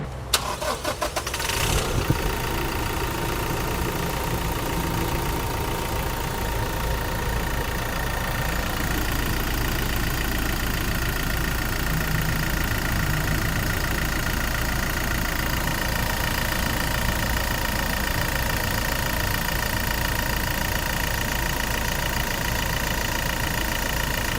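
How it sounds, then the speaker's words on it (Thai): A 2018 Toyota Revo 2.4 pickup truck engine cranks and fires, then settles into a steady, even idle that runs on, close to the microphone, with no talking. "ฟังเสียงเครื่องยนต์กันหน่อยครับ"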